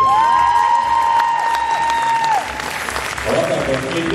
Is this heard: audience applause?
yes